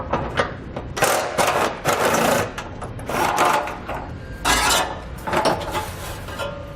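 A ratcheting tool spins out 10mm bolts beside the muffler of a 2019 Subaru Ascent, with rapid mechanical whirring in several close bursts separated by brief pauses.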